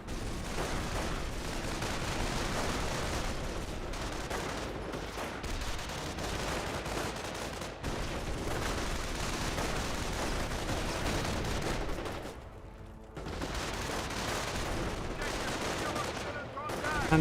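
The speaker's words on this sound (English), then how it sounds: "Taking fire! Oh, incendiary mortar there." Continuous battlefield din from the World War II strategy game Company of Heroes: dense rattling gunfire mixed with heavy incendiary mortar impacts, loud and unbroken apart from a brief dip near the end.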